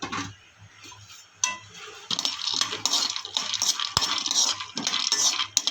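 Almonds being stir-roasted in a pan for makhana laddu rattle and clink against the metal in irregular bursts as a spoon scrapes them around, close and clear with no talk.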